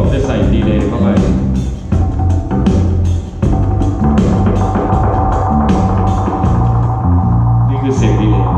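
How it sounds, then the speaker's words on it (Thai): Dub music run through an analog delay, a modified take on the old tape-delay sound, with loud, dense bass and rhythm and echoing taps repeating throughout. "นี่คือเสียงดีเลย"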